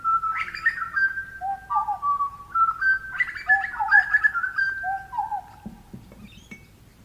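Australian butcherbird calls, a run of clear, fluting whistled notes that rise and fall in melodic phrases, loud and close, repeating in two bursts before fading into quiet.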